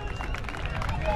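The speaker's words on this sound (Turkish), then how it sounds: "En büyüğünden bir alkış alayım o zaman" A short, dense burst of crowd applause at an outdoor picnic in Ordu, cheering a folk dance troupe, with many hands clapping together amid a noisy crowd.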